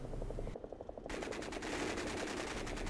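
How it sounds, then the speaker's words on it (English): Rapid bursts of machine gun fire in a DCS flight simulator combat scene, a fast rhythmic rattle of shots that runs almost continuously and fairly loud, broken only by a short pause early on. "takes a lot of machine gun fire to the cockpit section of the aircraft"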